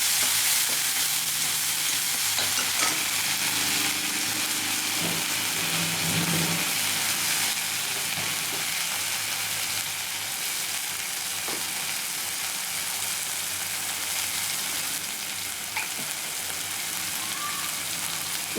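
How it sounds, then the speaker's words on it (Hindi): Green chillies fry in hot oil in a pan while a fish curry is cooked, a loud, continuous crackling sizzle like steady rain with occasional soft stirring clinks. "और थोड़ा सा हरी मिर्च, देखिए ये थोड़ा सा फ्राई हो जाए।"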